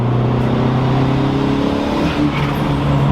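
A Honda Civic EG engine revving under boost in third gear, with a boost fault that keeps it from pulling. A loud, steady droning engine note holds for about three seconds with a slight wavering dip near the end, heard close without speech.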